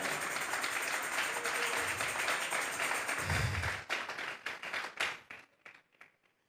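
A church congregation claps their hands in praise, with dense clapping and cheering that thins out and fades to a few scattered claps near the end.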